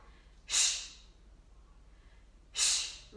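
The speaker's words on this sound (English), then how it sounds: "Open mouth exhales up top." Two forceful open-mouth exhales during a fitness workout, each a loud breathy whoosh about two seconds apart, close to the microphone against quiet background.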